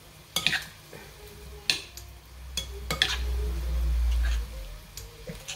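A salad being mixed with oil and mayonnaise, with sharp utensil clicks and scrapes against a bowl at irregular intervals, plus a low rumble midway; no talking.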